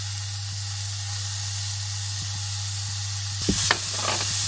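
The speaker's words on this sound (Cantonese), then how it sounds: "將蒜蓉同埋乾葱碎倒入去" Minced garlic and chopped shallots tipped into about one and a half tablespoons of hot oil in a wok, a sudden loud burst of sizzling and spitting after a quiet, humming lead-in, continuing as a close, steady fry.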